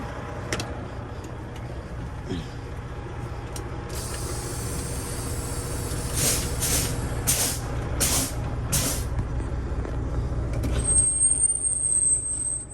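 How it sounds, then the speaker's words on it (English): A Freightliner FLD truck idles and drives back and forth in a steady low rumble, with a run of short hissing air bursts partway through and a high mechanical whine near the end. No one speaks. "we're just gonna drive it back and forth for a second."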